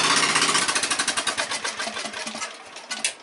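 A homemade motorbike engine, nicknamed The Beast, chugs in a steady loud rhythm and then winds down, its pulses slowing and fading as the kill switch cuts it off.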